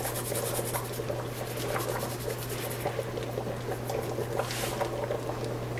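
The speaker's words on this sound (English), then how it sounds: "It's going to grate my garlic." Garlic rubbed over a microplane grater held above a pan, quiet repeated rasping strokes in an even rhythm, close and soft against a low steady hum.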